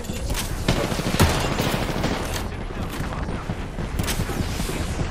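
Sniper rifle fire in the Apex Legends video game, booming as repeated sharp, loud shots over a dense, continuous battle din, with one especially strong blast about a second in.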